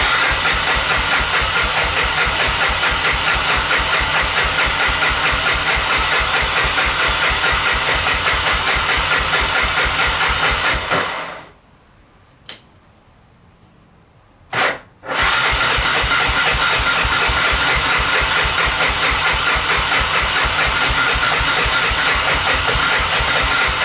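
A 1988 Honda 300 Fourtrax ATV engine cranks hard and loud in a rapid chugging rhythm for about eleven seconds, stops briefly, then cranks again without catching.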